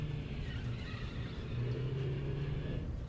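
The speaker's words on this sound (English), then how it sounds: "Gregory drives a car all the way down the Roxy Raceway" A car in a Five Nights at Freddy's game drives down the Roxy Raceway, giving a steady low engine rumble and whir that holds at an even level for a few seconds.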